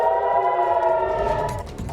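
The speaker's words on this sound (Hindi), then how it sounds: "तेल अवीव में सुनी गई सायरन की आवाजें।" A loud, sustained wailing air raid siren tone holding steady in Tel Aviv, warning of incoming drones from Yemen, with some rumbling noise creeping in toward the end.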